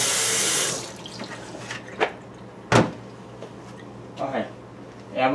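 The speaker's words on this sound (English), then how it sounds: "We're gonna wash it good. Wash the vegetables good." Kitchen tap water gushes loudly over vegetables for under a second, then shuts off, leaving quiet clunks and taps of handling in a sink.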